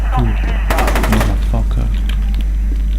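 Rapid bursts of machine-gun fire in the shooter game FEAR 2, loud and dense in the first half, then trailing into scattered shots and game noise under a steady low hum.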